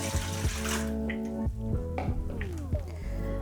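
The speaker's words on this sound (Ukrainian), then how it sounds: "У велику миску наливаємо ледь тепле молоко." Lukewarm milk pours steadily into a large bowl for a few seconds, partly masked by louder background music with sustained tones.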